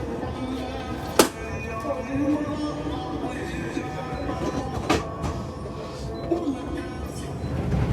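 The 7up Tezgam Express under way, heard from inside a carriage: a steady rolling rumble with occasional sharp clanks and knocks, faint background chatter mixed in.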